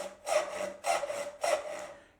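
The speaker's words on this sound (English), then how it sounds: "Here's the sound of a saw starting off the teeth and stopping on the teeth." Three separate hand saw strokes on wood, made with a traditional joinery saw, each stroke starting off the teeth and stopping on the teeth; close rasping pulses spaced evenly apart with no talking.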